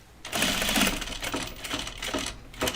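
A home sewing machine stitching all-cotton topstitch thread through thick fabric for overalls, running in a steady close rapid mechanical chatter with slight changes in pace.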